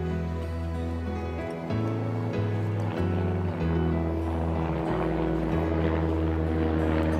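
A low, droning helicopter hums overhead at a target bird golf course in Miki, Japan, its steady rotor and engine tone shifting in pitch as it passes, moderately loud with a faint outdoor background.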